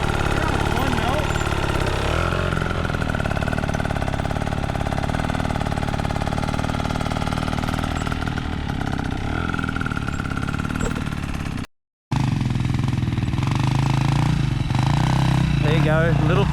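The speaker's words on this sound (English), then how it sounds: "Hear the bike. Hear one note." Motorcycle engine holding one steady note during riding training with peg weighting through turns, a continuous loud drone that runs under spoken instruction, briefly cutting out near the end before resuming.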